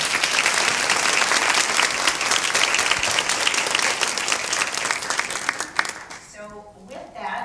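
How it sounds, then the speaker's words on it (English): Conference attendees at a women in vended laundry event give the organizers a sustained round of applause, thick and even for several seconds, thinning out and fading near the end. "So I'd like to give a big round of applause to them."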